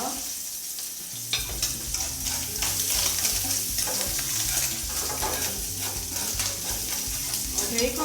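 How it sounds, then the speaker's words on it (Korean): Bacon frying crisp in a pan with whole peppercorns for spaghetti carbonara, a steady close sizzle that starts abruptly and continues with stirring scrapes and crackles throughout. "베이컨은 좀 바싹 볶아주세요"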